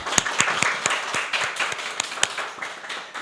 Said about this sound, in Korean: 우리 토부 독서 모임 팀 한번 응원과 격려의 박수 한번 보내주시겠습니다